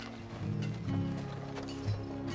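Horse hooves clip-clop at a steady walking pace, close by, with a low background hum throughout.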